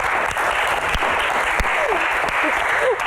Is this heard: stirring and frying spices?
no